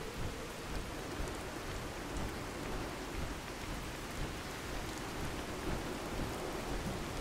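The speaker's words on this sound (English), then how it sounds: "is this a radiation storm I'm in right now?" Radiation storm in the Fallout 4 video game, with heavy rain and rolling thunder forming a steady, dense roar that stays loud and unbroken throughout, with no voices.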